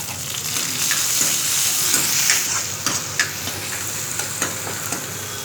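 Tomatoes sizzle and fry in a pan while a spoon stirs them, for a batani chaat. A close, steady hiss is broken by several scraping stirs, with no talking.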